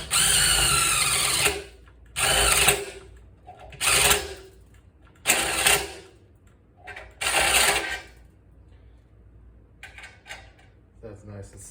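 A drill bores a hole for an output jack in a guitar body, heard as five or six loud, close bursts of whirring, each a second or so long with short silent gaps between.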